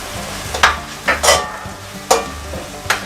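Tomatoes with chilli, turmeric and sambar powders being stirred in a pan, several distinct scraping stir strokes spaced through a soft steady sizzle, close and alone.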